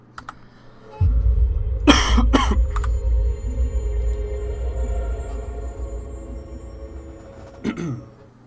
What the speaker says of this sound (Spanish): Sorry por la tos en la transición.